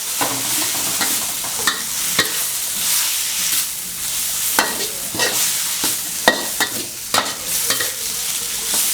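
Wide rice noodles for pad kee mao stir-fry in a hot wok with kaffir lime leaves, a loud continuous sizzle broken by repeated sharp scrapes and clanks of the spatula at an irregular rhythm.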